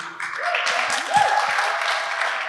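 A small group applauds the crew of an independent film, a short burst of clapping mixed with voices and cheering talk over it.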